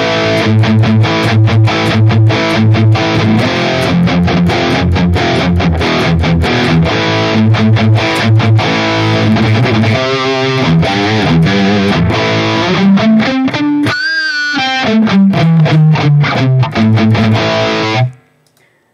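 Heavily distorted electric guitar through a Nux MG30 amp model and Ownhammer impulse response, playing a driven riff of chugging chords and bends, dry and upfront, cutting off abruptly at the end.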